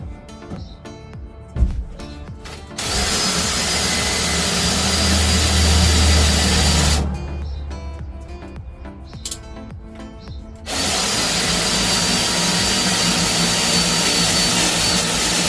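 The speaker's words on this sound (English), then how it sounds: "Now let's see if I can drill it out here." A power drill whines steadily through a spot weld in a VW Golf's metal floor in two long bursts, loud and close, separated by a brief pause with small clanks.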